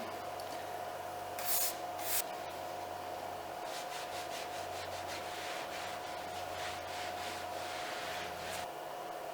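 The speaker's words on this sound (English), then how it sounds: "I'm going to go ahead and just do a quick wipe down with the Booyah hull cleaner" Cloth rubs and wipes Booyah hull cleaner across boat trailer bunks in quick, scratchy strokes close by, with a few brief spray bursts and a steady faint hum behind, no one talking.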